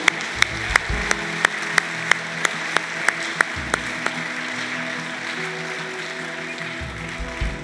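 A church congregation applauds during worship, steady clapping with sharp rhythmic claps in time, over sustained keyboard chords.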